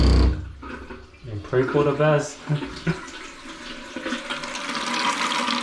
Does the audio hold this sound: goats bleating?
no